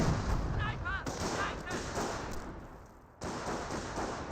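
Sniper and small-arms fire crack out in a World War II strategy battle from Company of Heroes, with Panzer Elite facing US forces, sharp reports over rumbling battle noise while a commentator talks.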